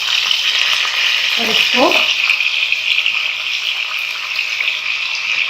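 Onions and mutton frying in hot oil, a loud, steady sizzle with a short stretch of talk over it.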